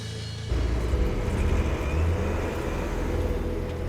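A heavy rock truck drives along, its engine a steady low rumble that starts abruptly and holds up close and loud throughout.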